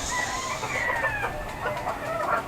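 Chickens clucking and calling in a rooftop coop at feeding time, several birds close together in continuous overlapping clucks and a drawn-out squawk.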